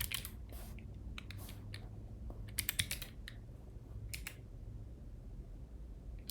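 Typing on a computer keyboard during a coding session, bursts of quiet crisp key clicks in uneven clusters with short pauses, close but faint, with no talk.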